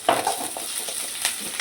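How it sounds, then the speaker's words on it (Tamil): Green chillies drop into onions sautéing in a pan for upma, with a steady sizzle and a few close scraping stirs across the short stretch. "வெங்காயம் கொஞ்சம் வதங்கிடுச்சுமா, பச்சை மிளகா போட்டுக்கலாம்."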